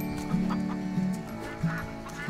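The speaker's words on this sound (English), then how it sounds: "I didn't feed your New Hampshire chickens" New Hampshire chickens cluck repeatedly in the farming video game Farm Together, with several short clucks and calls over a steady game soundtrack and no speech.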